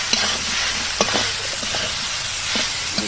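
Jackfruit curry with turmeric stirred and frying in a pan, a steady broadband sizzle with a few scraping spoon strokes through it, close and fairly loud.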